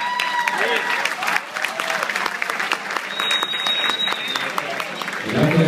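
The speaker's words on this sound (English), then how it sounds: "a nice round of applause for the best man." Wedding reception guests applaud the best man with loud, sustained clapping from many hands, a brief tone and a few voices mixed in beneath it.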